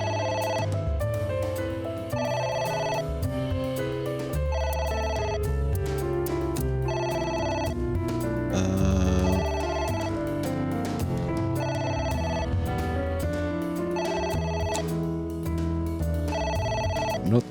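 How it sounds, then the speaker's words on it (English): A telephone rings inside the video game AI: The Somnium Files as a looping, melodic electronic ringtone. It stays loud and continuous for the whole stretch, with no talking over it. "A phone. Should I pick it up?"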